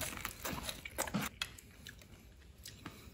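Close, crunchy bites and chewing on cooked carp, including the crisp bones, in a few separate crackling bursts with a soft wet squish between them; no talking.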